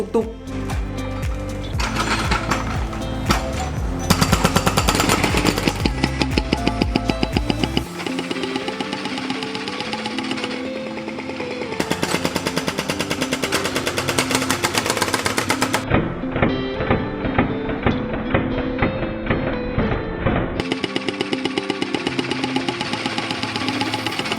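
A heavy hydraulic breaker with a pointed tip hammers holes into a road surface in rapid rattling bursts, loud and mechanical, with engine rumble and pauses between runs.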